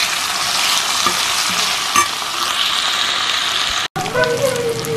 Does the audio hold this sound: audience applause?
no